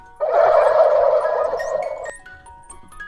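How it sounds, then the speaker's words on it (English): A turkey gobbles once, a loud close rapid warbling burst lasting about two seconds before fading out. "Turkey."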